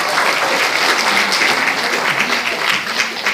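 Audience at a seminar in a National Assembly library hall applauds steadily, a dense, sustained clapping from a crowd that stays loud and even throughout with no speech over it.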